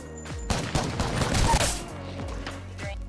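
Rapid bursts of gunfire from Apex Legends crack out in a dense volley, several shots overlapping loudly before tapering into a few spaced, echoing reports.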